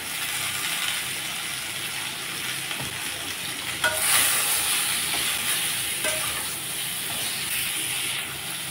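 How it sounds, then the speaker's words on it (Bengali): Potatoes and pointed gourd frying in a pan, giving a steady close sizzle and hiss with occasional light stirring scrapes, continuous and fairly loud, without talk. "আলুর সাথে পটলগুলোকেও আবার 3 মিনিটের মতো ভেজে নিলাম"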